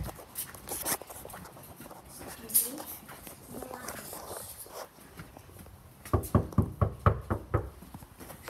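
Several sharp knocks on a garage door land in quick succession near the end, following a stretch of quieter rustling and muffled movement.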